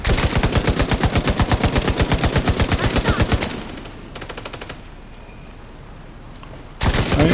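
Rapid automatic gunfire from the video game The Division 2, set in New York: loud, evenly spaced bursts for several seconds, then a shorter volley, a pause of quieter game ambience, and fire resuming at the end.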